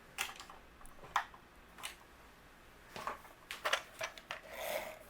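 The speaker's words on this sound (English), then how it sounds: "let's use my tape runner" A tape runner laying adhesive along a 3 3/4 by 5 inch striped paper panel for a card frame, heard as a series of soft, close clicks and brief scratchy rubs spread unevenly over a few seconds in a quiet room.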